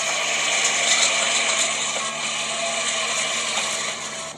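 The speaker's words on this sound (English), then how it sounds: "that's the sound of a train pulling in Tokoshi Ginza station" A subway train rolls into Tokoshi Ginza station in Tokyo with a loud, steady rushing roar and a faint whining hum, fading slightly near the end.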